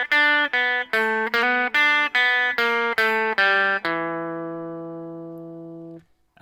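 A guitar plays a blues lick in E, about a dozen clean picked notes in an even rhythm, ending on a low ringing note that sustains and fades, close and alone with no talk.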